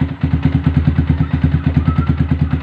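A Yamaha R15 motorcycle engine with a 62 mm cylinder block idles close by with a steady, even chugging pulse, smooth and regular throughout.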